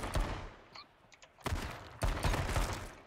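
Pistol shots fired in the H1z1 video game: sharp bursts of gunfire, one near the start and two loud clusters toward the end, with brief quiet gaps between.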